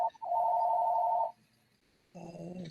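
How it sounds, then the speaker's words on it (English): A telephone rings in a public transportation commission meeting room, with a steady electronic tone for about a second, then a pause, then a second burst of ringing, fairly faint against the room. "Someone's phone is ringing."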